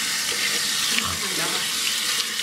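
A tap runs steadily into a sink while hands are washed, a close continuous hiss of flowing water.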